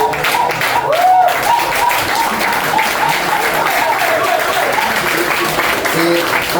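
An audience at an open-house event applauds volunteers, a steady wash of clapping with crowd noise throughout, while a voice speaks over it.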